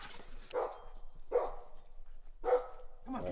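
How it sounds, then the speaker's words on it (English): A dog barks three times in separate bursts, spaced about a second apart, moderately loud and fairly near in a quiet remote setting in Alaska. "just heard the dog bark."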